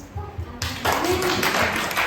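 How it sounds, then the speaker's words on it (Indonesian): A congregation claps at a church sermon, bursts of hand claps starting sparse and then thickening into a loud, rapid patter, over a low rhythmic thumping background. "Tepuk tangan dulu"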